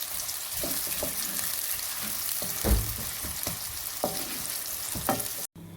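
Onions with garlic paste frying and browning in a pan, a steady hiss of sizzling oil with a few louder stirring scrapes and clatters, no talking.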